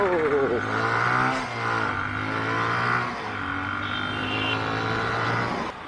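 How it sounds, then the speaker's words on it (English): A Bajaj motorcycle engine runs steadily and loudly throughout, with a low harmonic drone and a brief rise in revs. A voice talks over it. "the bike is running totally fine"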